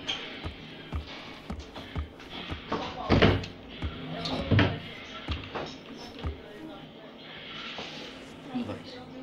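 A door in a horror video game swinging shut, with a couple of heavier thuds and creaks standing out among scattered knocks and bumps, heard under ongoing conversational voices.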